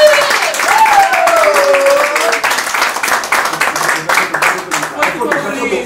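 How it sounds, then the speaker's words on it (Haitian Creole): An audience at a drama series finale celebration applauds the company's CEO with sustained clapping that thins out toward the end, while a voice speaks over the opening stretch. "On applaudit le PDG!"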